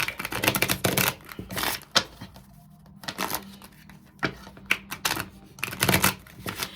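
A deck of cards is shuffled close by in quick papery bursts of riffling and flicking, separated by short pauses, with no talk.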